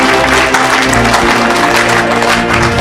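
A church congregation claps loudly and continuously, a dense wash of applause filling the space with voices mixed in.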